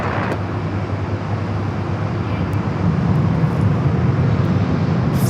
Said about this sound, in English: Delta Airlines flight 986, the 737-900ER.